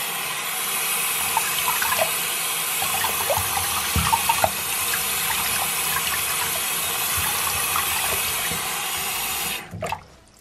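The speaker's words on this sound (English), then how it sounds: "So I'm gonna just turn on the water first." Water runs steadily from a tap for about ten seconds, an even rushing hiss with a few small splashes and knocks, then cuts off abruptly near the end.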